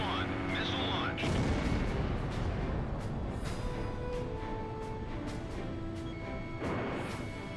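A missile launch in the flight-combat game Ace Combat Zero: The Belkan War, a dense rumbling whoosh amid booming combat noise and radio chatter, with a rising tonal sweep near the start and talk running over it.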